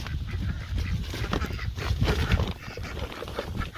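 Ducks being fed outdoors quack and honk continuously at close range in a busy, overlapping chorus, with no voices heard.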